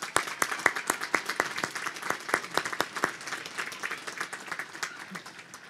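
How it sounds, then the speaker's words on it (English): A commencement crowd at Eastern Arizona College gives a round of applause for the music department, with sharp, distinct claps forming a steady patter that slowly thins out toward the end, fairly distant and moderate in volume. "Please join me in acknowledging this talented group with a round of applause."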